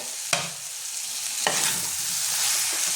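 Whole green chillies and chopped tomato hiss and crackle steadily in hot oil in a pan, with two sharp clatters of a spoon stirring; no talking.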